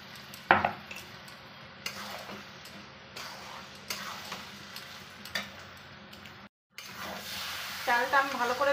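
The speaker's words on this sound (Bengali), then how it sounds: "চালটা আমি ভালো করে ভেজে নিয়েছি।" Gobindobhog rice frying in a pan for fish-head biryani, with a soft sizzle, light ticking clinks of a spoon on metal and stirring scrapes, growing busier toward the end.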